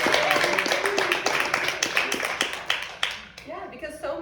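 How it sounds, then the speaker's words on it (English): Audience clapping in a room, a burst of hand claps that thins out and fades over a few seconds, with a voice coming in near the end. "let's give Aubrey a round of applause"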